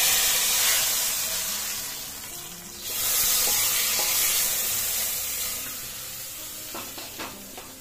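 Tempering poured onto boiled khichdi sends up a loud hissing sizzle that swells, dips, surges again, then settles into softer frying with a few light clinks near the end, no voices.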